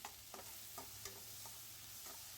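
Capsicum, green chilli and egg sizzling in a pan while being sautéed, a steady faint frying hiss broken by soft scraping stirs of a spatula at regular intervals, with no one talking.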